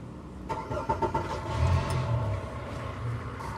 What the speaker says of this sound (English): I'm gonna go ahead and fire up the boat.